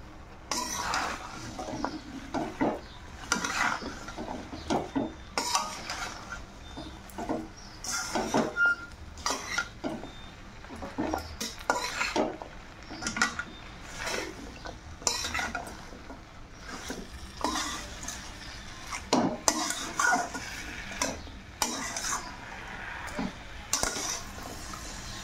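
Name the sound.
stirring pumpkin and dried fish curry in a pot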